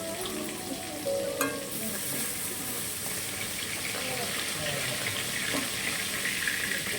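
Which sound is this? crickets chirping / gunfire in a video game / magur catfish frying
magur catfish frying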